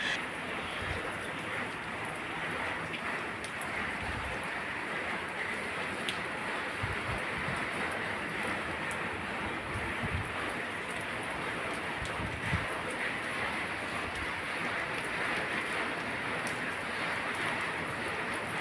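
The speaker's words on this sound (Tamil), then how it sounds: "இங்கே பாருங்கள் மழை நல்லா பிடிக்க ஆரம்பிச்சிருச்சு" Heavy rain pouring onto a roof, a steady, even wash of hissing noise that holds constant for the whole stretch with no talk over it.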